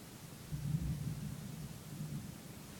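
Low, faint rumble of thunder from a thunderstorm heard indoors inside a room, swelling after a brief quiet start and rolling on steadily over a soft background hiss.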